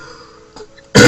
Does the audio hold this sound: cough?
yes